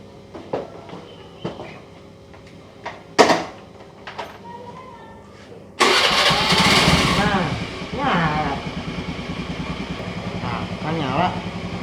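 A motorcycle engine starts after a few clicks and thumps, then runs loudly nearby with a rough idle and some revving, while people talk over it.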